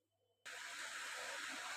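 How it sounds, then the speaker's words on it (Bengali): A paratha fries in oil with a loud, steady, close hiss that starts abruptly after near-silence and carries on without pause, with no talking. "দেখো, তেল দিয়ে ভাজছি পরোটাটা"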